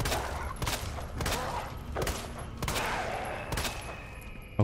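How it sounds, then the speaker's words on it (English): Shotgun blasts in the Resident Evil 2 video game, several heavy booming shots spaced about a second apart, loud and close with no talking. "Shotgun. Shoot him."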